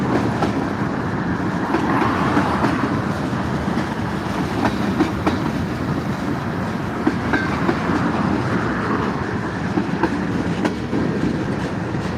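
A CSX freight train, locomotives 3171 and 586, rolls steadily past nearby with a continuous loud rumble of railcars and wheel clatter, plus a few sharp metallic clicks and squeals over the full stretch.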